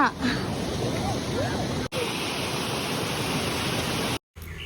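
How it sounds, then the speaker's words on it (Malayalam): Steady, dense hiss of heavy rain pouring down nearby, continuous apart from a couple of brief dropouts. "മഴ"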